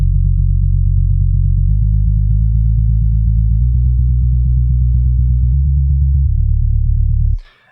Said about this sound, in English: So first of all, there's the sub bass.